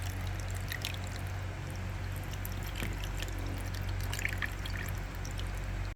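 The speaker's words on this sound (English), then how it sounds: "So once again, we're pouring slowly to kind of help alleviate any air bubbles" Coolant poured slowly into the engine of a Ford Focus ST EcoBoost, a faint, steady trickle over a low constant hum, with a few small splashy drips scattered throughout.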